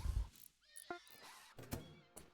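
Horse neighing in the RimWorld video game: a short, fairly quiet whinny with a few thin tonal cries and scattered soft knocks, set against low rumbling at the start and brief sharp clicks later.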